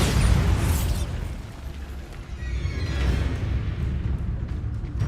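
A Bombarda blasting spell goes off in Hogwarts Legacy, a heavy, rumbling burst with a loud initial boom that trails into churning debris noise, followed by a second swell of rumble.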